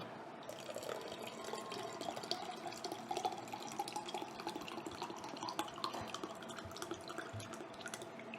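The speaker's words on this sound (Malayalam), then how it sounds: "അത്രയും നിറച്ച് വെള്ളം ഒഴിക്കുക കേട്ടോ" Water pours into a half-litre mug in a quiet, continuous trickling stream with small splashes and drips, close to the microphone but faint overall, and no voices.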